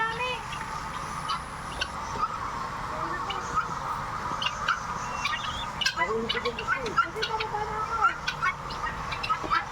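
Guinea fowl at a zoo call in repeated harsh, clucking bursts at a moderate distance, mixed with murmuring voices and crowd background as people talk nearby.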